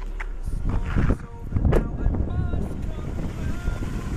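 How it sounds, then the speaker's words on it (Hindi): A Chevrolet Beat petrol car engine runs steadily at idle with the bonnet open, a close, low, continuous rumble with some wind buffeting on the microphone. "तो ये कुछ इस प्रकार से अपना कार का इंजन है"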